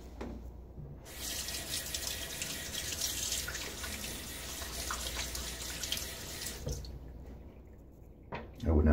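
Tap water runs steadily into a sink for rinsing after a wet shave with hard lavender soap and an Astra Platinum blade, a broad continuous splash that stops abruptly near the end, with no talk over it.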